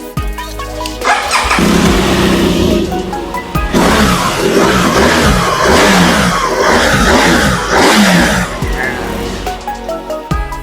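A 2017 BMW R1200GS Adventure motorcycle engine starts up close by and runs loudly, its pitch rising and falling through several revs before easing back.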